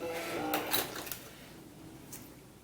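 A home sewing machine that is not feeding fabric properly while stitching a doll's blouse, heard as a faint, short run of mechanical stitching and clicking taps that fades into a quiet background.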